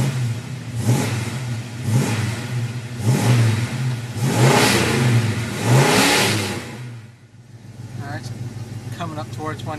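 A 1978 Ford Pathfinder Quadravan 4x4 van engine runs up close, revving in several rising and falling surges before easing back to a steady idle.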